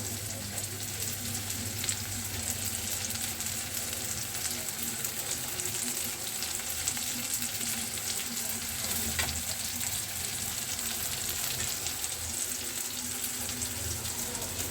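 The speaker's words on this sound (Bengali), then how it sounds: "এবার দেব কেটে রাখা আদা আর রসুন।" Chopped ginger and garlic fry in oil for an egg curry, giving a steady, loud, close sizzle with some stirring that runs without a break the whole time.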